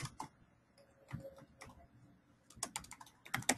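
Computer keyboard keys tapped in short scattered bursts, a few soft clicks followed by a quicker run of keystrokes, quiet and close with no talking.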